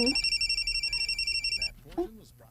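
A telephone rings with a rapid, pulsing electronic trill for under two seconds, then stops as a voice briefly speaks.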